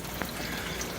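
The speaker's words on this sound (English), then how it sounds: "You see it's still pumping outside." A pump sends aquarium water out through a hose outdoors during a tank water change, a steady faint rush of flowing water with no talk.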